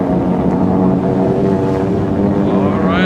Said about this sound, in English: The boat's revved up and ready to go.